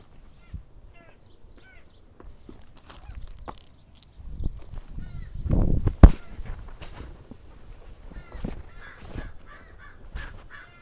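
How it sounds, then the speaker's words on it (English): Crows caw outdoors in scattered, moderately distant calls. A louder rustle and a sharp thump break in midway. "those crows are annoying"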